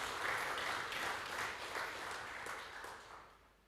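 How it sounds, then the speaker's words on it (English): A room full of people applauds at a coffee event during Coffee Creative Week, steady clapping that gradually thins and fades over a few seconds. "So let's just give him a round of applause as well"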